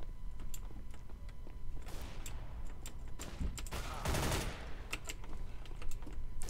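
Rapid gunfire bursts in a Counter-Strike: Global Offensive competitive match rattle at moderate distance, mixed with clicky keyboard and mechanical taps and a couple of louder broadband volleys, with no voice.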